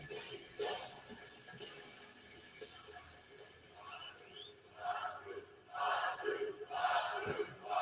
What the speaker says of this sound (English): The crowd loves him.